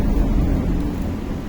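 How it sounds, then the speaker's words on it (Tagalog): Steady rain falls outdoors with a dense low rumble of thunder, a continuous broadband wash that stays loud and even throughout the short stretch, with no voices. "Umuulan sa labas pero maganda yung kanila."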